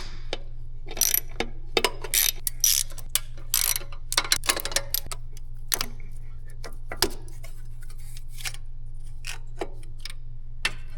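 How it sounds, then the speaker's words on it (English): A ratchet wrench works loose the 8mm bolts on an EGR crossover pipe during an engine repair, giving bursts of close, sharp clicking spread irregularly through the stretch over a steady low hum. "Now I'll remove this EGR crossover pipe altogether with some 8mm bolts on either side."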